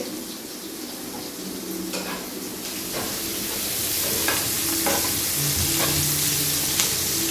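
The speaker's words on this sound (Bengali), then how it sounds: "পেঁয়াজটা একটু লাল মতন হবে" Chopped onions fry in a pan for a spicy kajoli fish curry, a steady close sizzle running throughout with repeated scraping stirs of a spatula, growing slightly louder toward the end.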